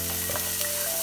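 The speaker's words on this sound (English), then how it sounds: "when the oil is heated, we're gonna add our sweet peppers, onions," Sweet peppers and onions hit hot oil in a pan for Jamaican tin mackerel, producing a dense, bright, continuous sizzle up close with a faint stir partway through.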